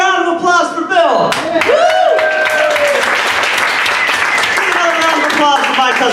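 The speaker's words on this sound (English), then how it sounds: "Let's give another round of applause for Bill." An audience at an evening show bursts into loud, sustained applause and cheering after a tonal sound fades, clapping dense and close throughout.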